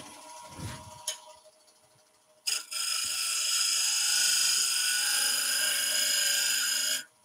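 Wood turning on a lathe for a pepper grinder: a brief knock, then a steady high whining cut that runs loud and even for several seconds before stopping abruptly.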